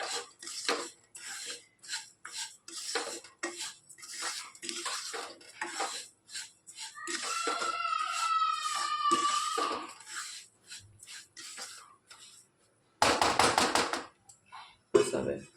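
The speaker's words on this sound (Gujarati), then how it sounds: "પેન ગરમ છે એટલે હલાવતા રહીશું એટલે નીચે ચોટી ના જાય" A utensil stirring spices as they roast in a hot pan for sweet-and-sour raw mango pickle. Close, rhythmic metallic scrapes and clinks repeat steadily, with a voice speaking briefly in the middle and a louder burst of clatter near the end.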